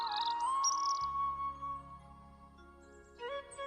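A cartoon bird chirps in a Hindi animated moral story, with bright tweeting calls at the start over a steady tonal music bed that carries through, and a short rising chirp near the end.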